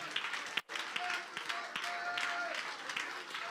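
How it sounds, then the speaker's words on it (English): A church congregation claps hands together, a faint, steady wash of clapping with a brief pause near the start and murmuring voices beneath. "Clap your hands, stamp your feet, and pray."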